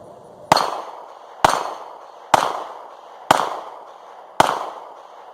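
Five sharp, loud pistol shots from a Smith and Wesson Shield handgun, evenly spaced about a second apart, each with a short ringing decay and no talking.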